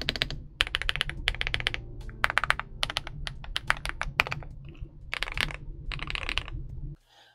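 Typing on a Boyi K104Pro full-size mechanical keyboard produces crisp, close bursts of rapid keystrokes separated by brief pauses, loud and clear with no talking, ending in silence.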